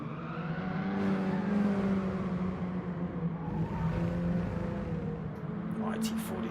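Mini Cooper Cup race cars accelerating along the back straight at Tsukuba Circuit, a sustained rising engine drone with climbing tones, under steady race commentary.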